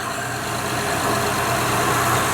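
A 2005 Honda Pilot engine idles after an alternator replacement, a steady, even mid-pitched hum heard up close with no talking.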